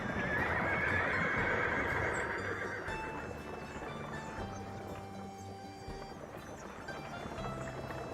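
Horses in a video game neigh and whinny loudly near the start, then hooves clip-clop steadily under a continuous background of game ambience.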